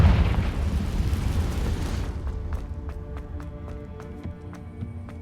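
A Confringo blasting spell explodes in Hogwarts Legacy with a loud, rumbling boom that fades over about two seconds, followed by quieter rhythmic tapping and ambient game tones.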